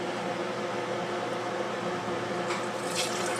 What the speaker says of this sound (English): I'm going to pour